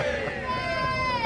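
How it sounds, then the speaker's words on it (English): A street crowd at a Children In Need charity event, with bikers present, gives a loud, sustained cheer that fills the whole moment, with voices and shouting blended into a steady roar. "Come on, guys, just give me a massive cheer."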